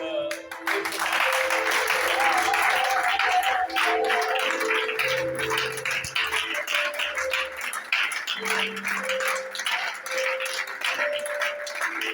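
A church congregation applauds its collaborators, pastors and elders, sustained clapping and cheering spread across the hall, with a voice talking over it throughout.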